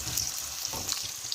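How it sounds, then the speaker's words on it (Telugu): Sliced onions and green chilies sizzling in hot oil in a pan while being stirred, a brief bright crackling fry with soft scraping movements underneath, close and steady. "దాని తర్వాత ఎర్రగడ్డలు వేసుకుందాము. పచ్చిమిర్చి వేసుకొని కలుపుకుందాము."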